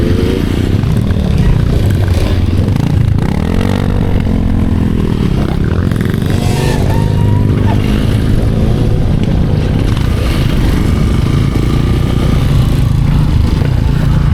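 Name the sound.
trail motorcycle engine bogging on climb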